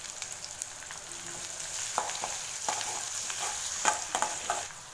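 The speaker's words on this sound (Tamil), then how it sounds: "சேர்த்துட்டு வெங்காயத்தை நல்லா வதக்கி விட்டுக்கலாம்." Sliced onions sautéing in hot oil with mustard seeds and cumin for an egg poriyal: a steady close sizzle with sharp clicks and scrapes of stirring scattered throughout, no voices.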